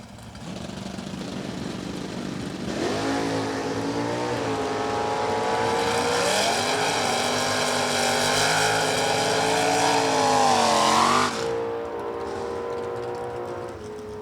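Super Stock A Automatic drag race cars at a Dallas strip: a rough idle builds into a loud, sustained engine roar with rising pitch for several seconds as the car launches, then cuts off sharply and leaves a lower background rumble.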